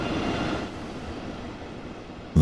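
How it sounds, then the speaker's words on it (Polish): A train sits at a station platform in the video game Train Sim World 3 on the Kassel–Würzburg high-speed line, giving a low rumbling hiss that eases off, then ends in a sudden loud burst. "Your train has arrived"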